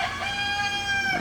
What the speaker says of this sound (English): did you hear that rooster? My neighbor has roosters and chickens.